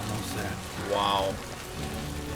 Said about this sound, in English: Rain's coming down hard.